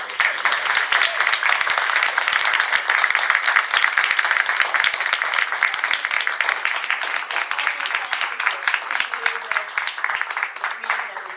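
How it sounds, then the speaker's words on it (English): An audience at a gallery talk claps for the artist Joyce, a dense, sustained round of applause that holds steady, then thins toward the end with scattered individual claps. "So can we have another round of applause for Joyce?"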